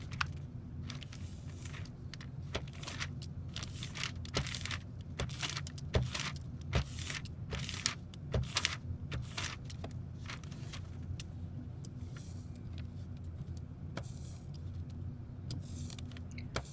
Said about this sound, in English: Now that I can hear that really sticky sound, I know I have enough ink on my plate.